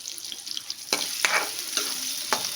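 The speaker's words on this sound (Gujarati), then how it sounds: "ડુંગળીને આવી રીતે થોડીક વાર માટે સાતળી લેશું" Chopped onions sauté in hot oil with mustard seeds and cumin in a pan, giving a steady close sizzle broken by a few sharp scraping stirs of a spoon.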